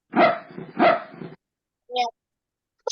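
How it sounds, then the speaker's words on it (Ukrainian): A dog barks twice in quick succession, close and clear, followed by a pause and brief children's voices. "Собачки."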